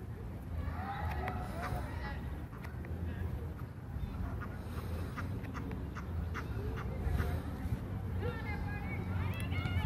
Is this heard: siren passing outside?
no